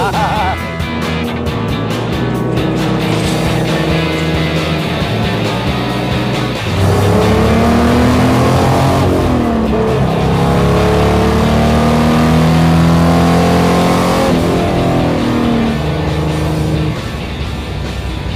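A loud race car engine roars and revs continuously nearby on a track during a 24 Hours of LeMons race, pitch climbing through gears again and again with a faint voice underneath.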